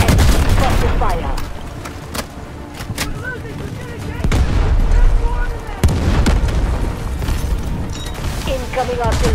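Incoming artillery fire in the shooter game Delta Force, during large-scale PvP warfare: a rapid series of loud, sharp booms and blasts at irregular intervals, some close and heavy, with a voice talking in the background.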